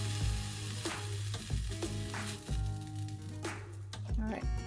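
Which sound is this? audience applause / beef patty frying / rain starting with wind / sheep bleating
beef patty frying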